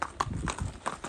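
A horse's hooves clip-clop on a ranch in a quick, regular rhythm of close, crisp knocks.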